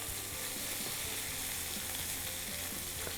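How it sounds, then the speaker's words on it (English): Vegetables sizzle steadily in a hot pan in a constant hiss while a utensil stirs them, giving a few faint scrapes; no one speaks. "Give it another stir to the vegetables"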